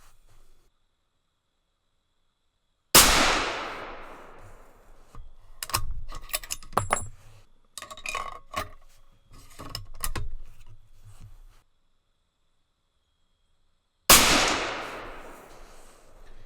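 Two loud, sharp suppressed rifle shots from a Savage 110 in 300 Winchester Magnum ring out about eleven seconds apart, each decaying quickly, with quieter clicks and handling of the bolt and gear between them.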